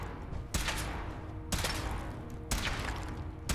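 Weapon firing during a power-armor suit test in Fallout 4: three loud, sharp shots about a second apart, each with a rumbling tail, close and alone.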